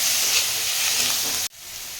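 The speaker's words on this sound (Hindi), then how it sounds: "इसलिए अब इनको थोड़ी देर और भूनूंगी।" Crushed carrots and a vegetable mixture sauté with salt for a wholewheat-flour breakfast dish, giving a steady close sizzle that cuts out sharply near the end and then resumes a little quieter.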